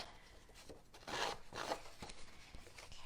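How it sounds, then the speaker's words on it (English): Scissor blades rasp along the edge of cardstock in a paper-craft project, a close, soft scraping with a few separate strokes, the longest and loudest near the middle, heard alone without talk. "your scissors work really, really well"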